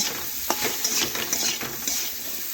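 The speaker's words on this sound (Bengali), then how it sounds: "এখন একটু হলুদ আর লঙ্কা গুঁড়ো নাড়াচাড়া করে বেগুন আলুর সাথে মিশিয়ে নেব" Spoon stirring turmeric and chili powder into eggplant and potatoes in a hot pan, a soft continuous sizzle with light scraping strokes, close and alone.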